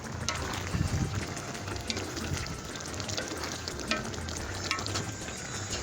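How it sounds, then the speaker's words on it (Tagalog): Filipino macaroni soup (sopas) bubbles in a pot, a busy, continuous simmering patter with small pops and gurgles, heard up close and without talk. "hayaan mo lang natin siyang kumulo ng kumulo dyan hanggang sa maluto ang ating sopas"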